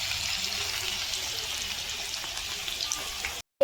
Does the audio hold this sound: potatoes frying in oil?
yes